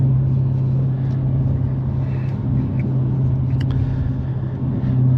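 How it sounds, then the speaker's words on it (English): A 2023 Dodge Challenger with a 6.4L Hemi V8 and six-speed manual drives along, its loud, steady low engine drone and rumble heard from inside the cabin. "Oh, such intoxicating noise. Love this car"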